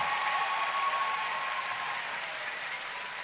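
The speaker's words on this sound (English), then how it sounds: "let's give Team 1 a big round of applause." An audience gives a round of applause to a team at an award ceremony, a continuous even wash of clapping that holds steady and slowly fades slightly.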